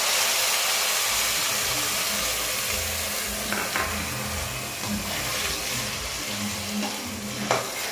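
Curry leaves and ground masala hitting hot oil with popped mustard seeds for a Tamil fish curry, a dense close hiss of sizzling that settles into a steadier fry with a few light spoon scrapes.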